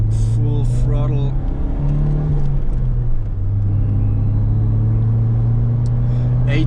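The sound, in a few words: Ford Sierra 2.0i accelerating at full throttle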